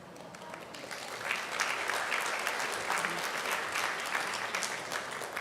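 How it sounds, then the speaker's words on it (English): An audience at a Backpack Blessing event applauds with steady, dense clapping that holds at a moderate level for the whole stretch, with no voices over it. "So you're going to want to clap every time."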